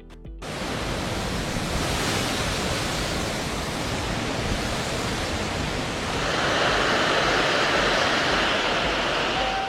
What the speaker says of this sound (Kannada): ಧುಮ್ಮಿಕ್ಕೋದೇನು, ಭೋರ್ ಗರಿಯೋದೇನು, ಡ್ಯಾಂನ ಗೇಟ್ಗಳು ಓಪನ್ ಆಗ್ತಿದ್ದಂತೆ ಶರವೇಗದಲ್ಲಿ ನೀರು ನುಗ್ತಿದೆ.